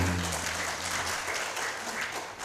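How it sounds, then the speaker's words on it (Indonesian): Applause from the audience at an open doctoral promotion exam fills the room at moderate volume, steady clapping that swells slightly, with a faint low hum underneath. "tepuk tangan untuk Pak Seroji"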